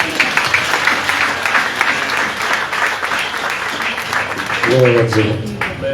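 A church congregation applauds loudly and steadily for several seconds, with a brief sung or spoken voice rising near the end.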